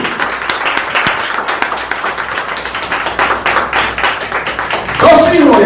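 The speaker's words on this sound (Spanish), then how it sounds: "¿Por qué no le damos un aplauso al Señor," Congregation applause during a Spanish-language church sermon, a loud, dense, steady clapping from many people filling the room, with a brief voice breaking in near the end.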